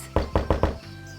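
Knocking on a door in the video game Bubbu: four quick, evenly spaced hollow knocks, close and fairly loud, with no one talking.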